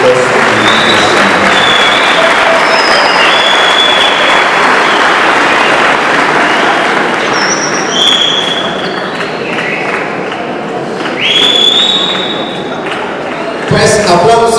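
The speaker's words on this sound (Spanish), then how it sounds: "Pues aplausos para los ganadores de este festival 2019 en la parroquia Santa Cruz." Audience applause for the winners of a 2019 parish song festival at Santa Cruz, a loud sustained clapping crowd that swells and eases, with a voice speaking over it and a brief thump near the end.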